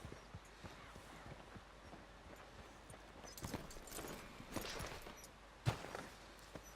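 Horse hooves clip-clop at a walking pace in Red Dead Redemption 2, a moderately quiet, steady patter of footfalls with a sharper, louder hit near the end.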